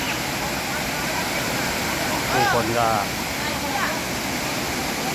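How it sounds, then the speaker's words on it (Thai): Rushing water of a waterfall in rainy weather, a loud, steady broadband roar filling the whole clip, with someone briefly speaking over it midway. "อันนี้ครับน้ำตกเก็ดสาวน้อย"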